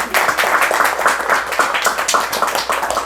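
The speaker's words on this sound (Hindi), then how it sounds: "ताली तो बजाओ" Close, loud clapping from an audience at a live religious gathering in a house in Mississauga, Canada, with rapid uneven claps sustained throughout and no talking.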